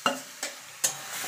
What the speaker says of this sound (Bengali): এবার যে এখানে মাংসটা মেখে রেখেছিলাম সেটা দিয়ে দেবো।